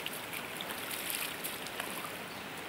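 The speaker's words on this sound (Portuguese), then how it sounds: "Corredeira assim, ó." River rapids on the Rio Catas Altas in Ribeira, São Paulo, rush in a constant broadband hiss, a steady close wash of churning water with no pauses.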